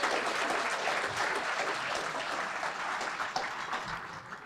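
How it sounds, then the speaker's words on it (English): A banquet audience at an annual chamber of commerce awards dinner bursts into sustained applause, dense overlapping clapping filling the room at an even level for several seconds. "Let's welcome them with a round of applause"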